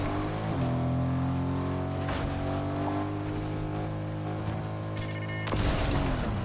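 Car engine in a video game: a steady, fairly loud motor drone with a constant pitch, then a brief shift and rise near the end as the car accelerates. No one speaks over it.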